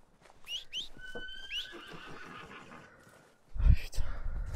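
A horse whinnies in Red Dead Redemption 2, a rising, piercing neigh near the start over quiet game ambience, followed by a louder burst of rumbling noise toward the end.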